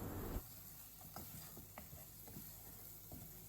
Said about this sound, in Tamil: மசாலா எல்லாம் அந்த தண்ணியோடு சேர்ந்து நல்லா கொதிக்க விடலாம்.